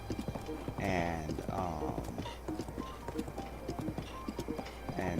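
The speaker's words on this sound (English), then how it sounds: "I kind of like seeing the scenery as I travel through on horseback." Horse hooves clip-clop steadily as a rider travels on horseback through a video game landscape, the rhythmic clatter sitting under ongoing speech with harmonic voice bands throughout.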